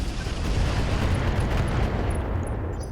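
Autocannon fire from an Ultra AC-5 mounted on a mech in the RogueTech BattleTech mod: a dense, sustained, booming rumble holding loud and steady for about three seconds before easing slightly.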